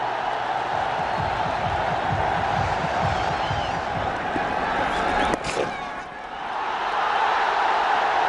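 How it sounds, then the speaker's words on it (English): A large cricket crowd at a one-day international roars and cheers a batsman's fifty, a dense sustained swell of noise with a brief sharp peak near the end before the roar settles back. "Listen to the crowd."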